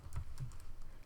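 Typing on a computer keyboard while entering a patient search, with a short run of soft, evenly spaced key clicks close by and no talking.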